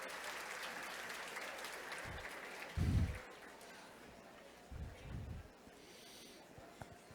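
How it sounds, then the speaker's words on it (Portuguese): A church congregation claps together in a dense wash of applause that thins toward the end, broken by a few low thumps and breathy noises nearby. "Uma salva de palmas."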